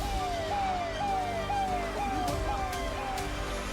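A fire brigade siren wails at an Uttarakhand forest fire, a steady repeating rising-and-falling electronic tone cycling about every half second, loud and continuous over a dense rumbling background.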